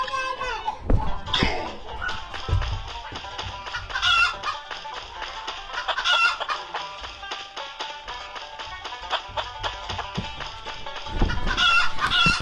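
Repeated clucking and squawking chickens in a busy party video game soundtrack during a catch-the-chicken round, with bursts of jingly effects and occasional voices underneath.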